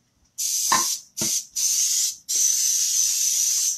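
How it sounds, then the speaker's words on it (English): Cooking spray hisses from a can onto a baking pan in four bursts, three short ones then a longer steady spray, close and loud. "We're going to spray our pan."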